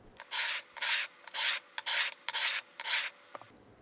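Stainless steel guitar frets are filed level with six or seven even back-and-forth rasping strokes, close and clear, with short pauses between strokes.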